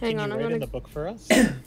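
A single short cough near the end, sharp and close, following a man's speech in a casual indoor setting.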